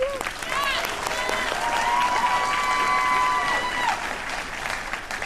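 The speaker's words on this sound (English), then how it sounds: "give them a round of applause" Audience applause and cheering for graduating seniors at a 2022 school senior recognition ceremony, a steady dense wash of clapping with scattered whoops, filling the room for about five seconds.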